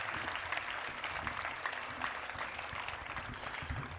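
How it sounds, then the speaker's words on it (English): Applause from an audience at a powwow dance event, a steady dense patter of clapping held throughout at moderate, slightly distant level. "let's give a round of applause to Tara Gover."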